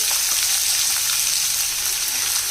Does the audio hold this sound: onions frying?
yes